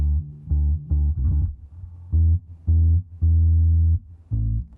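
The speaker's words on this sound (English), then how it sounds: "And then I just added a bass that just follows the root notes." A low synth bass follows the root notes in short, sustained notes in a simple stepping pattern, some held longer than others, with no voices.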